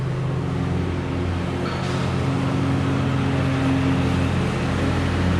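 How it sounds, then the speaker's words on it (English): A lawn mower runs outside as a steady, droning engine hum with broad noise, heard continuously and fairly loud with no pauses. "My dad's out there mowing while I'm out in here doing this"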